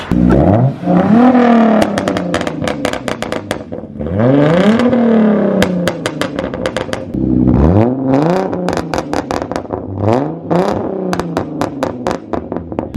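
A loud Hyundai car exhaust revving hard in repeated bursts, each climbing in pitch and dropping back, with rough crackling between pulls, close and very loud with no talk.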